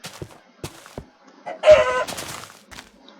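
Video game chickens give a few sparse clucks and one louder squawking burst near the middle. The calls sound close and clear over a quiet background.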